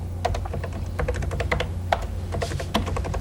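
Quick, uneven keystrokes on a late-1980s personal computer keyboard clatter up close for a few seconds, loud and alone with no voices.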